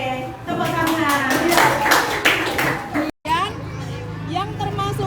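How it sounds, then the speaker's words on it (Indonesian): A school class claps hands in a classroom, a few loud rhythmic bursts of clapping over children's chatter, followed by a brief gap and then a teacher's voice and continued murmuring. "Oke, tepuk tangan."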